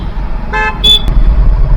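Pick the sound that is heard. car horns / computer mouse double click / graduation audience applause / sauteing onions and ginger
car horns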